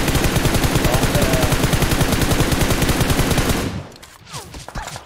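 Heavy automatic gunfire in PUBG Mobile: a dense, relentless rapid-fire stream, loud and close, that cuts off abruptly near the end, leaving scattered quieter shots and game noise.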